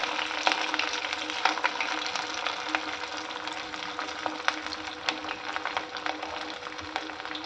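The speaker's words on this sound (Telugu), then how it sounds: "ఇప్పుడు రెండు వేయిస్తున్నాను అనమాట" Two vadas made from idli batter frying in hot refined oil, a continuous close sizzle with frequent sharp crackles and pops throughout, no talking over it.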